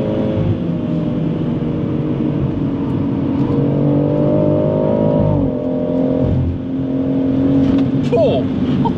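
A tuned 620hp BMW M140i accelerates hard on the Nürburgring, heard from inside the cabin as a loud, steady engine drone that climbs in pitch, drops at a gear change, then rises again.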